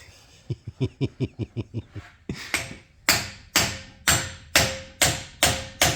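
Sharp hammer blows drive a chisel, first a run of quick, lighter taps, then a brief pause and a series of heavier, ringing strikes at a steady beat, close and loud with no talk.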